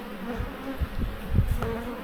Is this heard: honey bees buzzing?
yes